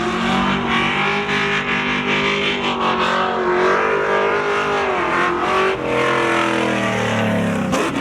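Camaro race cars, an '86 and a 2000, roar through a spectator drag race at a thrill show, engines revving and wailing loudly with shifting pitch, tires squealing briefly near the end.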